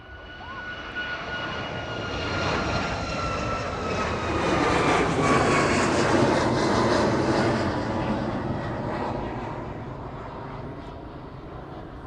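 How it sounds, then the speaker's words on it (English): A Boeing 747 jet rolls down the runway at East Midlands Airport and climbs away, its engine roar swelling to a loud peak as it passes close by, then fading. "that 747 will roll straight past us"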